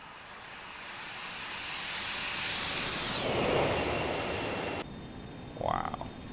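A FlyJSim Boeing 732 airliner in a flight simulator game sweeps past in a flyby, its engine roar building steadily and then dropping sharply in pitch as it passes, fading into a softer tail.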